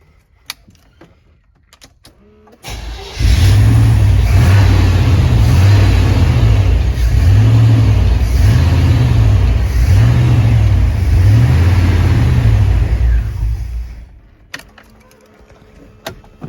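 A small block Chevy V8 in an OBS muscle truck cranks and catches, then idles loud and close with a rhythmic, lumpy pulse for about ten seconds before shutting off.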